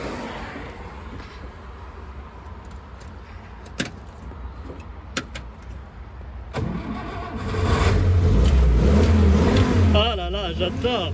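A vintage Hotchkiss car is started with a key: a low idle rumble with sharp clicks, then the engine catches and revs loudly and unevenly near the end, with some talk over it.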